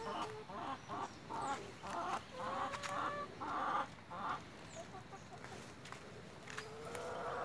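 Chickens clucking on a rural farm, a steady run of overlapping clucks and calls from several birds at close range, heard against outdoor background noise with no talk.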